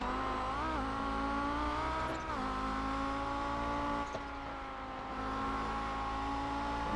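Audi GT race car engine in a Camel GT Championship racing game at Road Atlanta, a steady loud high-revving drone with harmonic whine, brief dips at gear changes, continuous throughout.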